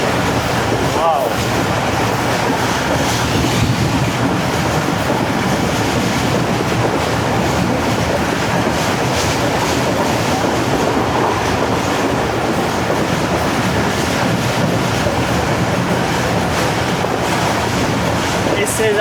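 The Pak Business Express, a Pakistan Railway train, travels at speed, heard as a loud, continuous rushing rumble of wheels and wind with rhythmic clatter throughout.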